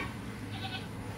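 A goat bleats once, a brief nasal call close by over a rough, noisy background.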